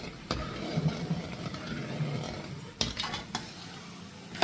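Snacks frying in hot oil are stirred in a pan, a soft steady sizzle under occasional metallic scrapes and clinks of a spoon against the pan, close and fairly quiet, with no talking.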